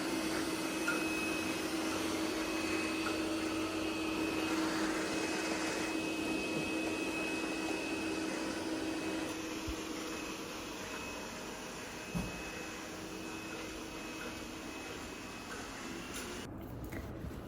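A vacuum cleaner drones steadily at moderate distance, a continuous airy hum with a faint whine, easing slightly later on.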